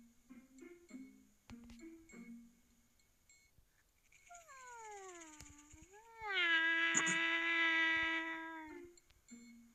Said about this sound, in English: doing a cat yawn, where it starts cute, then scary teeth